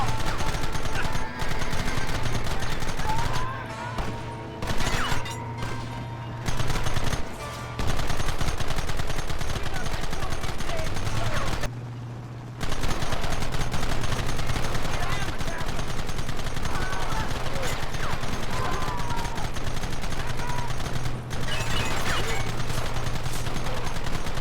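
Heavy gunfire from a Red Dead Redemption shootout, loud sustained volleys of rifle and revolver shots with brief gaps, shouted voices mixed in.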